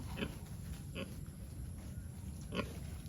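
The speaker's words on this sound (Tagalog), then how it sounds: "Yan po yung mga anak ng baboy natin." Pigs and their piglets in a farm pen, grunting and oinking in a few short, faint bursts over a steady background hum.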